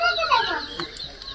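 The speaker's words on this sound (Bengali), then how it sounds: "এই যে মুরগি সুরগি বেচা আনছি" Chickens clucking at close range in a brief burst at a rural market where fowl are brought for sale, under and between a voice.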